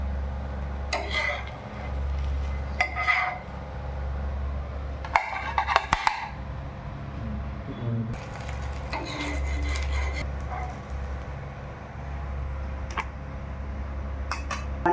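Utensils clink and scrape against a pan while rava bun dosa is flipped, with bursts of metallic tapping and scraping separated by quieter stretches of low background hum.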